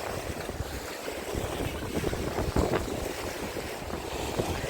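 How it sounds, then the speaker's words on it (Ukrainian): Wind gusting into the microphone over choppy sea at an Odesa beach, with waves washing in continuously at moderate loudness and no speech. "А зараз він все посилюється вітерець. І морічка більш хвилюче становиться."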